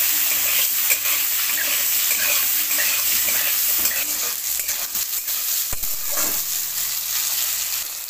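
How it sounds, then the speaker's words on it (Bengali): Potatoes fry in oil with five-spice and green chillies, making a loud, continuous sizzle up close. Intermittent scrapes and clinks of a spatula stirring the pan run through the frying. "আলুগুলো দিয়ে আমি এটা ভেজে নেবো আলুটা।"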